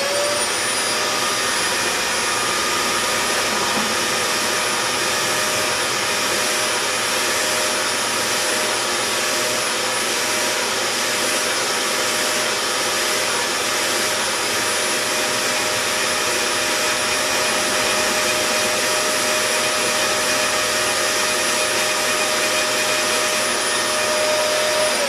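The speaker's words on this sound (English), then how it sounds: "So this is the vacuuming method after pretty aggressive brushing." A vacuum cleaner fitted with a brush pulls powder off a surface, giving a steady, loud whirring drone that holds unbroken throughout with a constant high whine on top.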